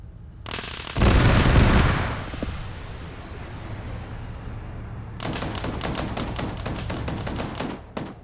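An aircraft gun strike hits an armoured LAV beside a bunker in a military video game: a loud, close burst of heavy impacts, a fading rumble, then a long rapid run of automatic gunfire to the end, with no voices.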